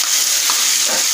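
Ground green masala sautés in hot oil with golden-browned onions for a green chicken curry, a continuous bright sizzle with light stirring.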